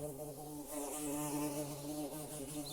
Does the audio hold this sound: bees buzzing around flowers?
yes